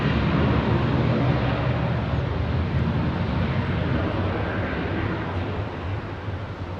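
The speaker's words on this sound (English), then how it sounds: "Here's your Korean triple freighter." A Korean Air Boeing 777 freighter roars past at Heathrow, a broad, loud jet rumble that stays heavy throughout and eases off slightly toward the end.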